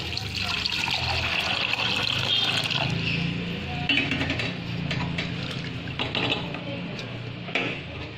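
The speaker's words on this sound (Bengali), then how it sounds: "এবারে আমি এর মধ্যে পানি দিয়ে দেবো" Water poured into a pot of chickpeas and potatoes for ghugni, a steady splashing and trickling stream running close and continuous for several seconds.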